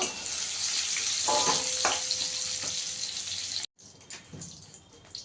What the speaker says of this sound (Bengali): আর পটলটা ভালো করে ভাজা হয়ে গেছে, দেখুন লাল লাল করে ভেজে নিয়েছি।